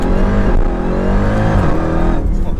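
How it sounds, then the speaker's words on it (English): A built 1000 hp Jeep Trackhawk with a supercharged 6.2 liter Hemi launches hard in first gear, all four tires spinning, its engine roaring loud and close with the pitch rising and dipping briefly. "That was the first gear dig. We were like, all 4 tires burned off right there."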